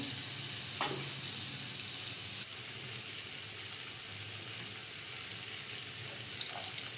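Hakka noodles frying in a pan with garam masala and pepper powder give a steady, close sizzle throughout, with a couple of brief clinks or stirring knocks and no talk.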